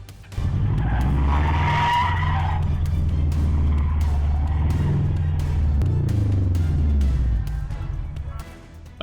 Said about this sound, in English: A sedan lost control, crashed into another car, then flipped and skidded upside down through a tunnel in eastern China